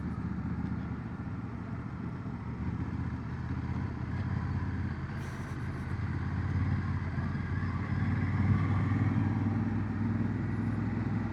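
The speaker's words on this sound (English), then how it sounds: "I do love the sound of this twin. The engine is just glorious." A 2025 Honda Africa Twin parallel-twin engine drones steadily at close range on a ride, a continuous low throttle rumble that swells slightly toward the end, with no talk over it.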